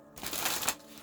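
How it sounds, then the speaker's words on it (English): A single quick, soft riffle of tarot cards being shuffled for a reading, a brief papery flutter lasting under a second in a quiet room. "So while I shuffle, let's get into prayer."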